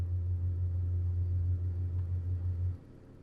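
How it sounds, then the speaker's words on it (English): A car's ABS pump motor, triggered by a diagnostic scan tool, drones with a steady low electric hum close by for nearly three seconds, then cuts off abruptly, leaving faint background rumble. "So it actually trips the ABS motor"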